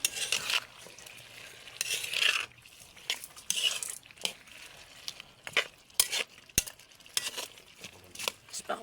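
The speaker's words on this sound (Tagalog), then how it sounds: "Tsaka haluin uli natin." A spoon stirs squid and papaya cooking in a pot, giving faint scraping and clinking strokes with a soft sizzle beneath, quiet and close, with no talking.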